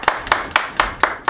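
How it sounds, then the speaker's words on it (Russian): Six sharp hand claps in a steady, even rhythm, close and fairly loud, with short quiet gaps between them. "Евгений, отправляйтесь в дорогу под наши бурные аплодисменты."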